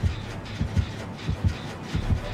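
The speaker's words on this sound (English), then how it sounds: "I hear the heartbeat. She's coming." Heartbeat warning sound in a horror video game, a low thumping double pulse repeating in a steady rhythm about every half second, soft and muffled with no talking.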